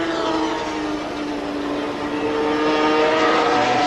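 500cc Grand Prix racing motorcycles, including V4 Yamahas, race at the 1983 South African round. A loud, continuous high-pitched engine wail holds throughout with a steady whine and no pause.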